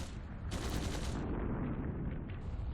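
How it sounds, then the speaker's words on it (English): In a Trails through Daybreak II game scene, bursts of distant gunfire crackle in a dense, rapid volley that fades slightly toward the end, with no voices over it. "Gunshots! From the next district!"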